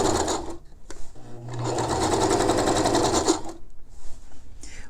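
A sewing machine runs shirring stitches along the presser foot on a garment. Its whirring, rapid needle chatter is loud and close, and it holds steady for a few seconds before it slows and stops.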